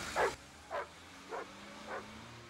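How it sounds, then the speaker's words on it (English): A dog barks four times at a measured pace, each bark fainter and more distant than the first. "He's barking somewhere near."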